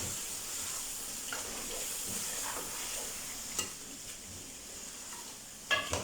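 Spices are stirred into beef palak gosht in a pot over a soft, steady sizzle and hiss, with a few faint spoon scrapes and clinks and no talking.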